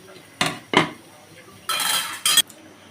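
A spoon clanks twice against a pot of khichuri, then scrapes around it in two longer strokes, near and fairly loud.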